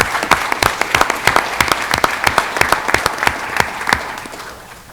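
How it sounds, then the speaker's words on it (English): An audience at a school board of education meeting applauds DECA finalists, a steady burst of many hands clapping close and loud, fading slightly at the end. "let's give all of our DECA finalists a nice round of applause"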